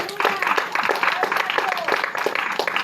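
A congregation claps during an evangelical church sermon. The rapid, rhythmic clapping is fairly close and mixes with voices and shouts.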